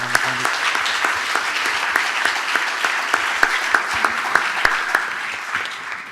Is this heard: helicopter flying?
no